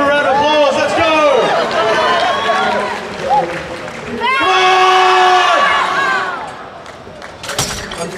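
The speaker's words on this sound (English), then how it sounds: "Give him a round of applause." A crowd at an IPF powerlifting meet claps and cheers during a world record squat attempt, loud, with shouting voices rising and falling in two big surges.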